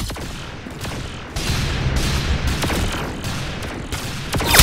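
Rapid gunfire from the Roblox shooter Arsenal, a dense run of loud, close shots with several sharp bursts, continuous and with no talking.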